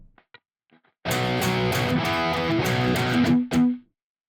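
Electric guitar strumming a riff with down and up strums plus muted strums, a dense, slightly distorted chordal wash with percussive choked hits, ending in a sharp cut-off accent; a few light taps precede it.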